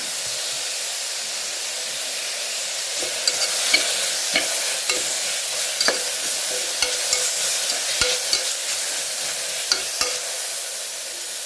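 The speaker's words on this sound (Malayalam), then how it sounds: "നന്നായിട്ടൊന്ന് ഇളക്കി കൊടുക്കാം. ഇഞ്ചി വെളുത്തുള്ളി ചതച്ചെടുത്തതാണ്." Crushed ginger and garlic frying in hot oil while being stirred, with a steady loud sizzle and hiss and regular scraping clicks from a spoon against the pan, and no one talking.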